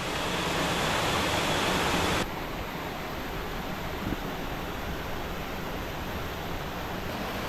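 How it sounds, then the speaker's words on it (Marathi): Hidden waterfall pouring into a river in the rain, a dense continuous roar of rushing water that drops in level partway through and then holds steady and even. "मस्तपैकी धबधबा पडते तिकडे."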